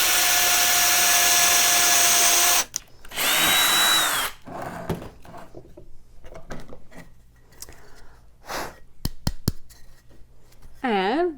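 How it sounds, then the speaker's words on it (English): A power drill with a Mongo drill bit whirs loudly in two sustained bursts drilling screw holes in wood, then falls quiet, followed by scattered clicks, knocks and brief rustling, with one last short whine at the end. "Get your drill bit."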